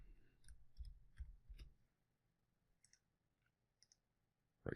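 Sharp mouse clicks from a computer mouse during setup of a folder on a domain controller, a few spaced clicks, close and fairly faint in a quiet room, with no talking.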